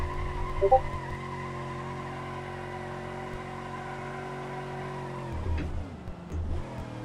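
A limo in the BeamNG driving game with a race transmission, engine droning steadily at high revs with harmonic whine, then breaking into a scrubbing tire skid near the end; no talking.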